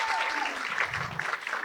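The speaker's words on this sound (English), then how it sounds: "Give yourselves a round of applause for being here" A live podcast audience on stage applauds, a brief burst of dense clapping that fades quickly.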